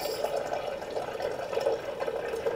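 Water pouring and trickling from an air water generator into a container, a steady close splashing flow with no talk.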